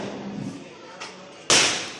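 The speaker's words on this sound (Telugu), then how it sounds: "వీళ్ళైతే క్రాకర్స్ కాలుస్తున్నారు." Firecrackers set off during a family Diwali celebration: a soft pop, then one sharp, loud burst that rings out and fades, over a low background murmur.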